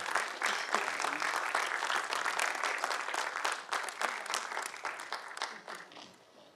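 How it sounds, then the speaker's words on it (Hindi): Audience applause for the musicians at a singing contest finale, a lively burst of clapping that stays strong and then tapers off near the end. "उनके लिए जोरदार ताली बजाएं।"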